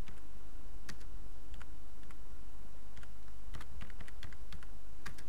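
Typing on a computer keyboard produces light, irregular key clicks, some single and some in quick clusters, close by over a low steady hum with no talking.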